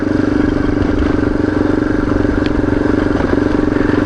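A motorcycle engine idles while the bike coasts downhill on Tatham Gap Road, a loud, steady, rapid mechanical drone close by with a faint rattle and no talking.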